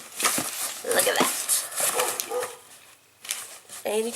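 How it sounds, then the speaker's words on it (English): A pet dog barks and yips in short bursts close by indoors, mixed in with a person talking over it and the rustle of a parcel being opened. "And you can hear my dog barking."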